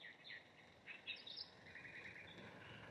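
Faint, high chirps and short calls from a few birds at a waterhole by an RV camp in outback Queensland, scattered over a steady outdoor hiss, somewhat distant.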